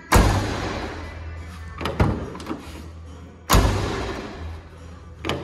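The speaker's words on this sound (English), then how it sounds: "These doors close just beauty." Doors of a lubricated 1981 Oldsmobile Delta 88 being shut, two solid close thuds a few seconds apart, each followed by a ringing decay, with lighter clicks and taps in between.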